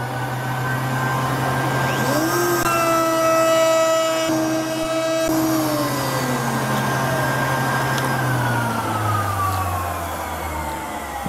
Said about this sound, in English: at this point I'm going to turn the vacuum on